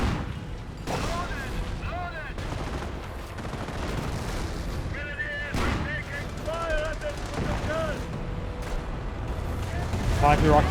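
Rocket barrage fire in Company of Heroes plays as a dense, continuous roar of explosions and booms with whistling streaks overhead, loud and sustained under steady game noise, with a commentator talking over it.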